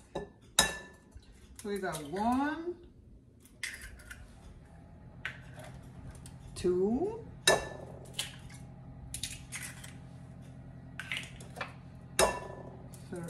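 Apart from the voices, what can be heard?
eggs being broken into a bowl for bread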